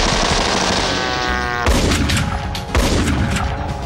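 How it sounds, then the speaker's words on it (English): Gunfire in a movie scene, with people shooting into the sky over a residential neighborhood. A loud, dense stretch of shots gives way to sharp bursts near the end, mixed with other film sound. "So they start shooting into the sky."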